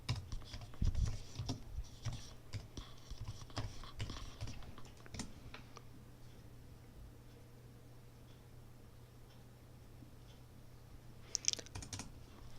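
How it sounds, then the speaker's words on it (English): Commands being typed on a Mac computer keyboard in a terminal, a quick run of near, fairly quiet key clicks that thins out into a pause, then a short final burst of keystrokes. "In your terminal window, go ahead and type the words brew doctor."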